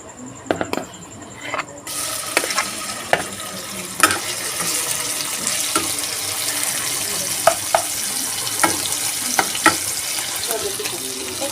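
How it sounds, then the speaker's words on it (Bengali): Prawns frying in mustard oil in a wok make a loud, steady sizzle that starts abruptly and carries on, with scattered clinks of stirring, close up and with no talking. "এবার আমি দিয়ে দেব সর্ষের তেল চিংড়ি মাছগুলো ভালো করে একটু ভেজে নেবো"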